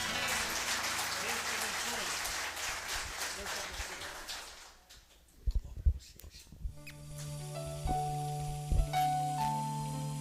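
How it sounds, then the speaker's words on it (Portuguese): A church congregation gives a burst of applause that fades within a few seconds. A few scattered knocks and taps follow, then a sustained organ or keyboard tone comes in. "Palmas para Jesus."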